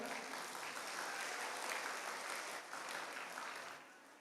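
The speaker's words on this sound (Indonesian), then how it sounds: "Ya, tepuk tangan" An audience at a university opening lecture in Mataram breaks into sustained applause, a dense, fairly faint and even patter of many hands that tapers slightly toward the end.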